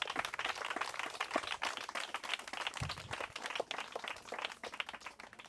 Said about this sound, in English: So can we say a round of applause to those?